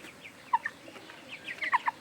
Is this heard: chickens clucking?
yes